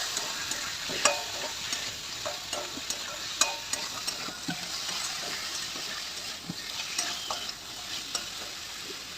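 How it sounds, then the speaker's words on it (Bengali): Crab being stir-fried in a pan with oil and spices, a constant crackling sizzle punctuated by repeated spatula scrapes and knocks against the pan, close and steady, with no voices. "কাঁকড়াটা দিয়ে সঙ্গে ভালো করে একটু কষে নেবো।"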